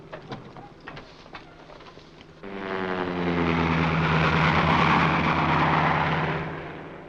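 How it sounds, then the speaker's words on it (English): A propeller-driven airplane engine, a 1930s plane, starts up and roars steadily for several seconds at close range with a rising, droning tone, after quieter mechanical clatter, then begins to fade. "It's our new plane."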